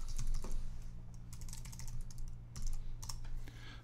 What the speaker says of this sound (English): You could type in git branch.